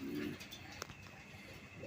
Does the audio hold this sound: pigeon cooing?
yes